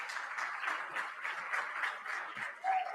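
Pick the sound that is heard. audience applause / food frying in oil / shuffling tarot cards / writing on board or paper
audience applause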